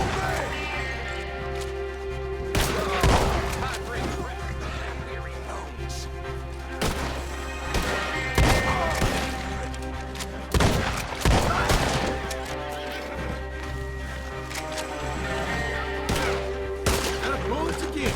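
Gunfire from a Red Dead Redemption 2 story mission: repeated sharp shots and crashing impacts, scattered irregularly over a steady low background, with a voice calling out now and then.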